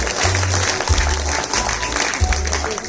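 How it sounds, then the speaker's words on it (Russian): Steady applause from an audience at an ensemble's anniversary celebration fills the whole moment, continuous clapping with a low rumbling hum underneath. "Аплодисменты."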